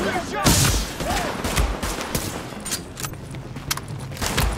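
Rapid bursts of gunfire from the video game The Division, with sharp cracks scattered through a busy firefight and several louder shots standing out near the start and end.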